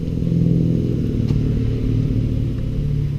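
A Ford 7.3 Powerstroke diesel truck rumbles past close by, a steady low engine drone that holds for a few seconds, with no talking over it.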